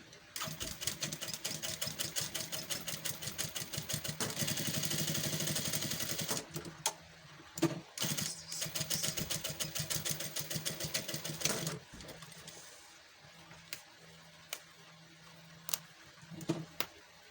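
Sewing machine stitching a bustier, a steady rapid mechanical whirr running for several seconds, then stopping and restarting in shorter bursts with clicks and pauses, close and alone.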